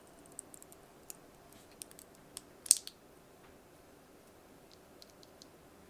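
A lubed Gateron Yellow mechanical keyboard switch being pressed, giving faint, sparse clicks and taps scattered at an uneven pace, with one sharper, louder clack near the middle, in a quiet room.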